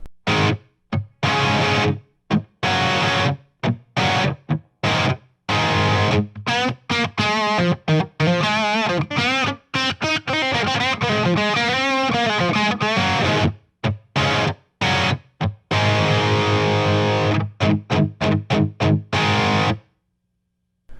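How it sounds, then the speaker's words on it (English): Crunchy overdriven electric guitar through an ENGL Savage 120 Mk1 tube amp, chords and riffs played with short gaps, loud and close, no talking. "there is some pretty good crunch tones in the middle of the dial here"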